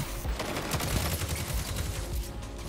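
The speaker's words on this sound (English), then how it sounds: "It's a full auto weapon." Rapid full-auto weapon fire in a video game, a dense continuous stream of loud close shots rattling throughout with no pauses.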